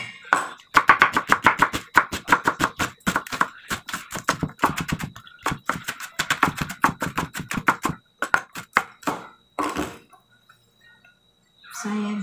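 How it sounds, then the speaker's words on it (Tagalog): A knife chops a small amount of white onion very finely on a board, a fast run of sharp, close taps that breaks into a few scattered strokes near the end, with no talk over it. "So, konti lang na white onion. Gayatin lang natin siya ng very small."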